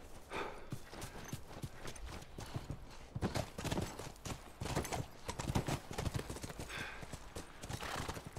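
Horses from The Last of Us video game clip-clop steadily at a trot, hooves thudding close and continuous, with a whinny rising briefly partway through amid game ambience.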